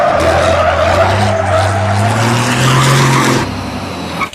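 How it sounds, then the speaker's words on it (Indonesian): A toy monster truck makes a sustained tire-squeal and skidding sound with a rising engine-like whine, loud and close, cutting off abruptly near the end. "Ini ada truk monster teman-teman."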